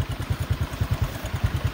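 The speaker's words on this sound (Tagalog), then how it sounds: "tanawa ang ako ang motor nga gisakyan" A motorcycle engine idles close by with a steady, even low thumping pulse and a light mechanical clatter, no voices over it.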